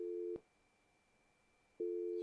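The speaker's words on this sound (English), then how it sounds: "It's ringing." A phone line in the Doctor Who: The Lonely Assassins video game gives a steady electronic ring tone, two sustained tones separated by a silent gap, clear and alone.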